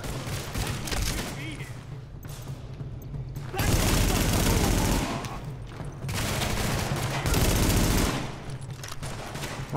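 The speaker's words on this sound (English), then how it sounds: "Have to shoot wildly here." Gunfire in The Division video game, long loud bursts of rapid automatic shots in two sustained volleys with quieter gaps between, and a voice speaking under the shooting.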